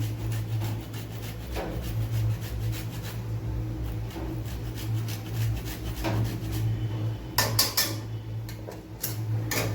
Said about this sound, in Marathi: मी जायफळ घालून घेते किसणीने किसून टाकते त्याच्यात